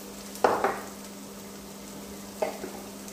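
Onions softening in a frying pan for a pan-cooked chicken dish sizzle faintly and steadily, with two short bursts of stirring scrapes from a utensil, one early and one near the end, in an otherwise quiet kitchen.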